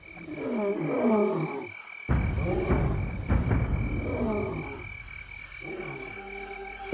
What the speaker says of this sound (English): I hear those fearsome roars in the darkness